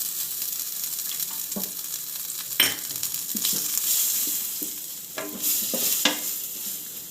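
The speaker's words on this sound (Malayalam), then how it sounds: "ബട്ടർ ആഡ് ചെയ്ത് കൊടുക്കാം. വെളുത്തുള്ളി ആഡ് ചെയ്ത് കൊടുക്കാം." Butter and garlic sizzle steadily in a pan, a continuous bright hiss broken by a few sharp clicks and scrapes of stirring, close and fairly loud with no voices.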